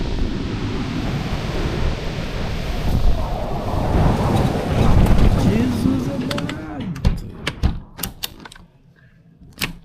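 Strong gusty storm wind in Portugal roars and buffets the microphone, then eases into sharp rattling clicks as it dies down.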